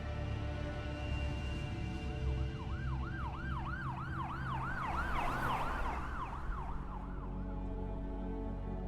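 A wailing siren rises and falls in repeated sweeping cycles over steady traffic rumble, loudest in the middle before fading slightly.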